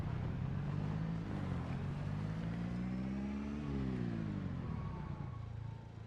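A car engine in a zombie survival video game drones steadily, pitching up and down as it revs, then eases off near the end as the car slows to park.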